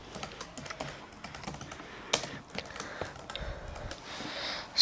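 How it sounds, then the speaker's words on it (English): A computer keyboard is typed on in a quick, uneven run of close, light key clicks, a short phrase being entered with brief pauses. "I'll just type"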